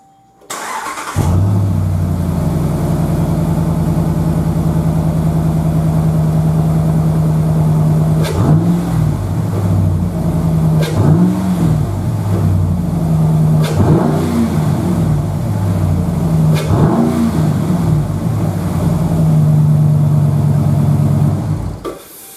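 A Ram truck with a Mopar Ramcharger-style air grabber intake and a Flowmaster exhaust with cutout starts up in a garage, then settles into a loud steady idle broken by several sharp throttle revs, each rising and falling back.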